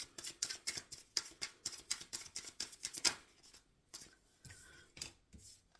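Tarot cards being shuffled in quick rhythmic riffles, a run of crisp flapping bursts that slows and softens toward the end, close by with no voices.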